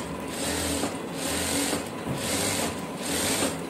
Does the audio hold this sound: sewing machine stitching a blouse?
yes